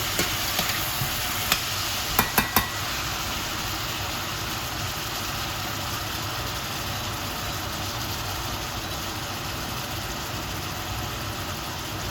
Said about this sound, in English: fry the onions a little before we put our meat in